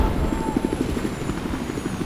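Helicopter in the video game Battlefield 4 thumps with rapid rotor chop and a steady engine whine, fairly close and continuous, with a voice speaking over it.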